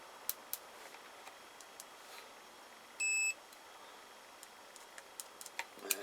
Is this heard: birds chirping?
no